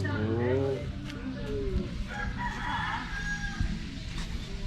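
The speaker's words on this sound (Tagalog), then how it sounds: "Dami manok nila." Chickens cluck and a rooster crows nearby at a rural home in Lemery, Batangas, calls overlapping against an outdoor farmyard background.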